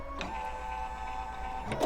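An embroidery machine stitching a snowman mug rug, a steady mechanical whir with a constant tonal hum and a few short clicks near the start and end.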